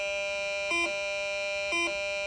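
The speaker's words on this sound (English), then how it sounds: "that's going to be an E grace note. And then that's going to sound like this on low G" A bagpipe chanter holds a steady, bright low G drone, broken twice by quick E grace notes that flick sharply upward before settling back, with no other instruments.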